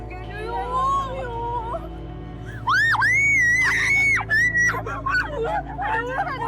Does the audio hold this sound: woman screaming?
yes